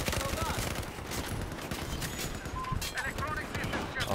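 Dense, rapid gunfire from Battlefield 4, near and loud, in continuous overlapping bursts with someone talking over it.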